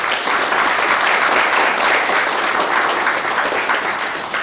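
At a breakfast meeting for chartered accountants, the audience gives the speaker a round of applause: dense, even, fairly loud clapping from start to finish, easing slightly at the end.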